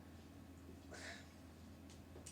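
A house cat gives one short, faint meow, with a fainter brief chirp shortly after, over quiet room tone.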